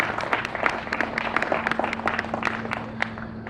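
Outdoor crowd applause at a heritage square time capsule opening in Oxnard, a steady patter of many hands clapping with distinct sharp individual claps over a low constant hum.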